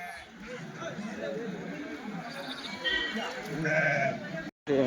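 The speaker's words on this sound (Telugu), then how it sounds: "నేత గొర్రెలు అయితే కనిపిస్తున్నాయి, పిల్లా గొర్రెలు" Sheep and lambs bleat repeatedly among a crowd of livestock at the weekly sheep and goat market in Kadiri, while people talk in the background of the noisy outdoor market.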